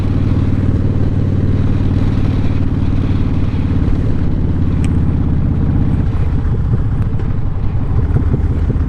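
A motorcycle on a winter ride, heard from the rider's full-face helmet: a loud, continuous engine drone mixed with heavy wind rush, the engine pitch shifting with a gear change about two-thirds of the way through.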